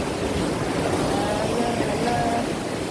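A khola, a stream at a park in Dharan, flows with a steady broadband rush of water that holds constant and fills the scene, with faint tonal traces riding over the wash.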